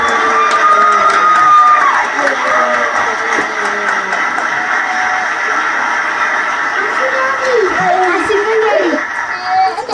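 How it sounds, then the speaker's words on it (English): Crowd cheering and scattered shouts fill a large hall at an Air Force pilot training class graduation ceremony, steady and loud throughout, with whistles and voices rising over the noise. "Let's give them one more round of applause,"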